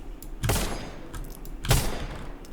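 Two heavy gunshot blasts from a shooter game running on the BlueStacks emulator, about a second apart, each a loud broad crack fading quickly against quiet in-game ambience.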